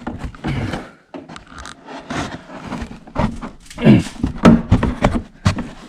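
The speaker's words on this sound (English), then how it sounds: "pull this trim out." Plastic trim being pulled out of a Mercedes C-Class trunk, with close scraping, rubbing and clicking bursts of handling noise and short pops as the piece works loose, irregular and stop-start.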